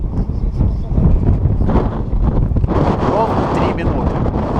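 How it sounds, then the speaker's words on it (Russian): A squall in the Chegem mountains in spring buffets the microphone in heavy, uneven gusts, loud and close, while someone speaks briefly through the roar. "Такой слабый ветерочек. Легкий. Меня аж с ног сдувает."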